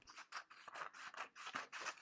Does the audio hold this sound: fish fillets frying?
no